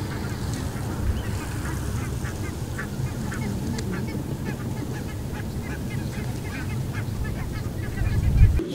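Pink-footed geese in their winter quarters in Flanders, a large flock honking continuously at a distance over a low rumbling wind-like background, with no voices.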